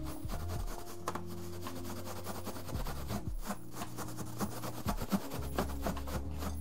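Close, squeaky rubbing against a balloon's rubber surface, continuous with faint static electricity crackles and a low hum underneath.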